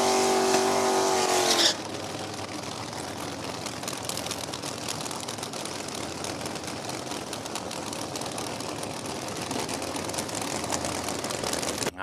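Top Sportsman Camaro drag race car, number 4059, at No Problem Raceway during an NHRA Division 4 event, with a sharp high-pitched engine blast at the start that cuts to a steady loud roar for the rest.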